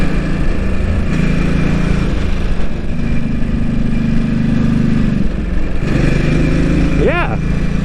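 A Ducati motorcycle engine pulls hard in third gear through corners on a road in Japan, with a steady mid-pitched drone that swells and eases with the throttle, close and loud throughout, plus wind rush.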